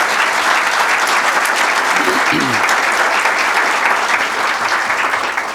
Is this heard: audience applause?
yes